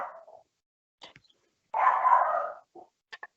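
Several dogs bark outside a house in bursts: a short bark, a couple of brief yips, then a sustained flurry of barking followed by a few quick closing barks, fairly loud and close, with no talk over them.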